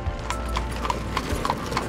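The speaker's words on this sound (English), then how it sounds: "Thompson started with a horse and wagon." A horse pulling a dairy delivery wagon clip-clops along at a steady walking pace. Crisp hoof strikes ring out over a low rumble of wheels.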